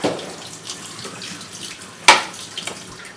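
Tap water runs into a sink as a child washes hands, a steady splashing hiss with one sharp louder splash partway through, no voices over it.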